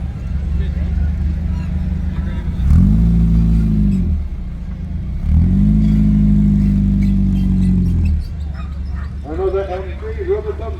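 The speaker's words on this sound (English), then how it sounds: "Another MG, rubber bumper engine." A classic rubber-bumper MG car at a car show passes with a loud, low engine drone that rises twice in strong revving sweeps, close by, followed by dog barking and voices in the background.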